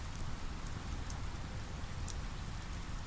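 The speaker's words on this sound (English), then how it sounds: "The rain is sinking into the pillowy moss on the forest floor" Steady rain falling on mossy forest floor and a lake at the foot of a waterfall, a dense continuous hiss of drops with scattered sharper droplet ticks, soft and even throughout.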